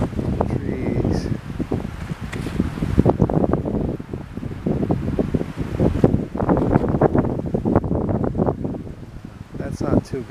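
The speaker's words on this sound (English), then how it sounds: "You can see it's windy today." Strong gusty wind on a mountain trail roars and buffets the microphone almost continuously, with someone talking over the blustery rush.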